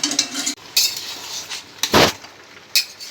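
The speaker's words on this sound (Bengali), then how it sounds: "এই ঢাকা দিয়ে দেবো ঢাকা দিয়ে দিলাম" A metal lid is set on a cooking pot of simmering vegetables with a few sharp clanks and clinks, one louder knock in the middle and a last light tap. The sounds are close and separate.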